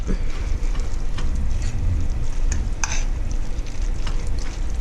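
Noodles, tuna, soup and 1% low-fat milk being stirred together in a pot for tuna casserole, a steady close wet mixing and scraping with faint clicks, no talking.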